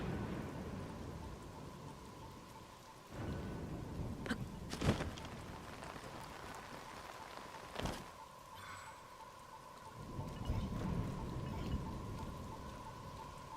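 Rain pours steadily in the video game Zelda: Tears of the Kingdom, a constant hiss that fades and swells, broken by a few sharp cracks and a distant thunder rumble. No speech.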